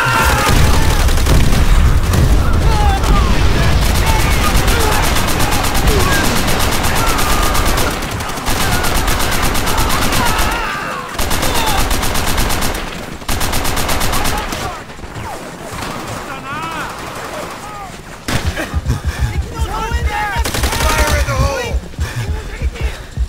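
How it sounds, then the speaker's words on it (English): Sustained machine gun fire from Call of Duty: World at War on PC, loud repeated bursts of rapid automatic shots with booming impacts, broken by short pauses and mixed with in-game battle noise. "Miller, man that MG!"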